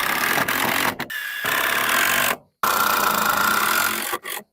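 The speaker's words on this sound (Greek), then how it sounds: "θα το στερεώσω με βίδες" A power drill drives screws into a wooden pallet while a chicken run is being built outdoors, giving several loud, close bursts of whirring motor. Each burst stops abruptly, with short silent gaps between them.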